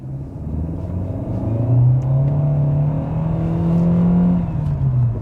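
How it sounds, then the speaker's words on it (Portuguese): A Fiat Cronos Precision 1.3 with CVT accelerates hard from a standstill in drive, giving a loud, steady engine drone that climbs and holds in pitch with a constant rumble throughout. "tô parado aqui, não tô no modo esporte, tô em drive, vou pisar fundo em 3, 2, 1, pisei."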